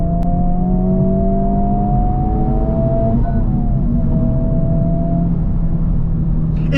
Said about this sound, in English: you get that race car sound behind you